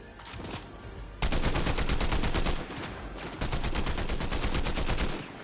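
Rapid automatic gunfire from a Fortnite match, two long loud bursts of fast, evenly spaced shots separated by a short pause, close and dominant with no talk over them.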